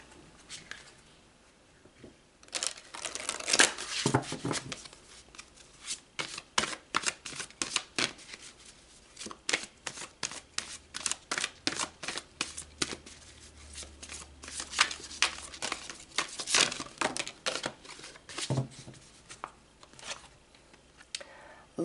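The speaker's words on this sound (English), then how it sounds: "So let's pull another card." Tarot cards shuffled by hand for about twenty seconds, a quick uneven series of crisp flicks and riffles, close and fairly soft, with no talking.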